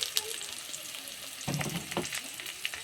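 Beetroot frying and being stirred in a pan for chutney; steady soft sizzle with a few scraping stirs, fairly quiet and close.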